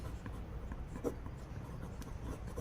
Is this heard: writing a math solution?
yes